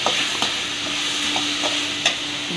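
Ginger frying in a pan as vegetables are prepared sizzles steadily up close, broken by a few distinct scrapes and taps of a spatula stirring, with no talking.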